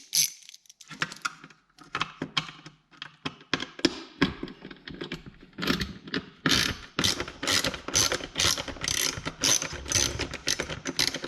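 Back piece of a Harley speedometer being unscrewed, heard as close, irregular clicking, ratcheting and scraping of metal parts that grows busier and louder toward the end.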